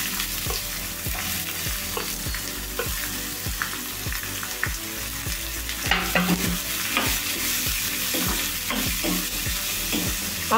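Sliced onions and curry leaves sizzle steadily in hot oil in a pan, with a rhythmic scraping of a spatula stirring them, close and continuous throughout.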